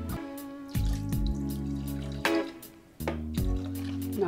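Water pours and splashes into a pan during vegan cashew gravy prep, a steady close stream with a few brief interruptions, each restart giving a fresh burst of splashing.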